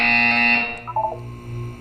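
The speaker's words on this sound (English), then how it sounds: "When you hear the buzzer, look up at the ceiling." A buzzer from the Portal 2 video game sounds as one loud, steady electronic tone lasting about three quarters of a second, then cuts off and gives way to quieter game ambience.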